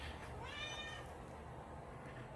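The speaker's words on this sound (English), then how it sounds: "this cat's making it hard to video" A cat meows once, a brief harmonic cry rising over a steady background hum in a garage where LED lights are being installed.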